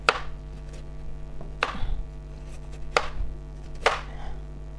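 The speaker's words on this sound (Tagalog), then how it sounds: "So, hiwain natin yung carrots pahaba." A knife chops carrots on a cutting board with four sharp, evenly spaced thuds a little over a second apart, close and distinct over a low background hum.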